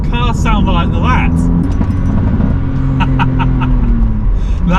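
A BMW Z4 with an aftermarket exhaust mod idles and blips, a deep rumbling engine note with sharp crackling pops and bursts, loud and close, while someone talks over it.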